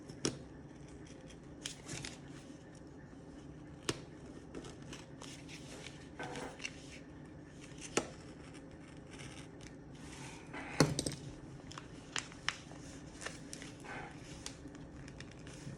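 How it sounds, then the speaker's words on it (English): Scissors snip through the bent-out edges of a cardboard ballot box, giving scattered sharp crisp cuts and light rustling of the board over a steady low background, close and fairly quiet. "So now we're cutting the edges that we bent out with our fingernails."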